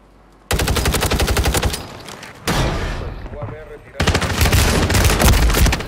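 Rapid bursts of SPAS-12 shotgun fire in Call of Duty: Warzone, loud and close, in three blasts separated by a brief lull with rumbling echoes.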